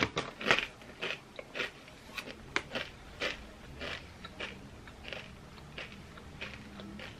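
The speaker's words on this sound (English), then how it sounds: "I wonder if you guys could hear me crunching." Crispy food crunched close to the mic, a string of sharp, crackling bites and chews at an irregular pace, fairly quiet with no talk.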